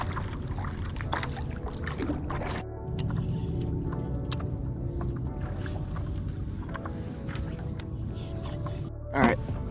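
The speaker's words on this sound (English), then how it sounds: "I spent probably like the past 30 minutes just paddling." Paddle strokes on a river from a paddleboard give soft water swishes and drips at an irregular pace, fairly close, with a brief louder splash near the end.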